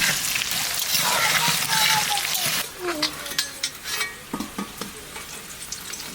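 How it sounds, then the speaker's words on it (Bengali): Bay leaves, cumin, dried chili and whole spices hit hot oil with a loud, dense sizzle that settles into softer crackling while a spatula scrapes and stirs the pan, with a voice talking faintly in the background. "তেল গরম হয়ে গিয়েছে, এর ভিতর দিয়ে দেবো তেজপাতা, জিরে, শুকনো লঙ্কা আর গরম মশলা।"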